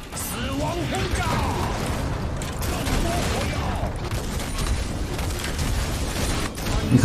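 Powder barrel explosions in League of Legends, played as Gangplank, with a rapid cluster of booming blasts and crashing impacts amid hectic game effects, while a voice talks over the action.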